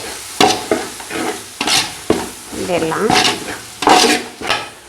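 Coriander and mint leaves fry in a pan for biryani, with a spoon scraping and stirring in uneven strokes over a steady sizzle and occasional metallic clinks against the pot.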